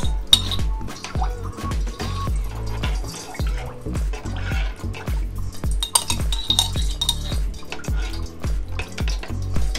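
A spoon stirs and mixes food in a cooking pot with repeated clinking and scraping against metal, along with soft wet sloshing, in a steady rhythm close up.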